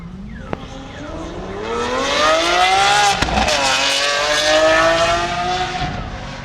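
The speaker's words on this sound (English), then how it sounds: "SVJ acceleration incoming" A Lamborghini Aventador SVJ accelerates hard nearby, its engine note climbing steadily through rising revs with a brief shift dip midway, loud and sustained for several seconds with no talk over it.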